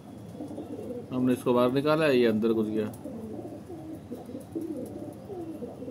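Pigeon cooing in a loft or coop, a clear rolling coo of about two seconds standing out near the mic, with someone talking over the quieter stretches before and after.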